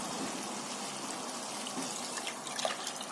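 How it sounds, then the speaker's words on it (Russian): Water pours from a tap into a frying pan of washed dry peas in a home kitchen, a steady soft trickle with a few drips, fairly quiet and close, with no talking. "Сюда же наливаем воду."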